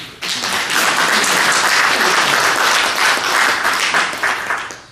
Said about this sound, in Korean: 우리 교회 협의회 임원들께 한번 박수를 한번 보냅시다.